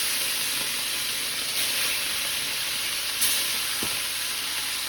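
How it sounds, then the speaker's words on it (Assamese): Local rohu fish rubbed with salt and turmeric frying in a pan, giving a continuous close hissing sizzle that holds steady throughout, with one brief clink near the end and no voices. "এইফালে এয়া ফ্ৰাই কৰি লওঁ বুলি ভাবিলোঁ দেই লোকেল মাছ ৰৌ মাছ"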